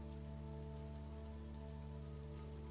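Steady rain falling as ambience in a tabletop role-play, a constant dense patter over a low, even hum, with no voices.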